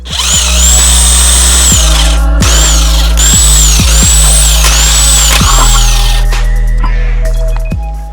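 A power tool, likely an impact gun, spins lug nuts off a wheel of a 2009-2014 Subaru Forester in a garage, giving several loud, close, sharp bursts with brief gaps between them.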